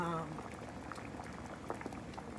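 Jamaican fish tea soup bubbles steadily in a pot, a dense close simmer of popping bubbles throughout, with a brief faint voice at the start.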